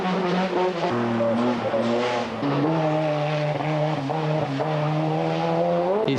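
Old classic cars at a hill climb race in Belgium, engines droning loud and steady with rising and falling pitch as gears change, several shifts audible over about six seconds.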